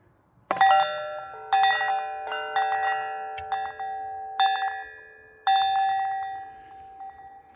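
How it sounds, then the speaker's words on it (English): An outdoor bell at a plant nursery rings in several separate metallic strikes, each bright tone ringing out and slowly fading before the next, clear and fairly close against quiet surroundings. "I put this bell here."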